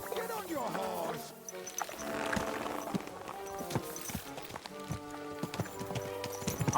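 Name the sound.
horse hooves galloping, from video game Kingdom Come: Deliverance II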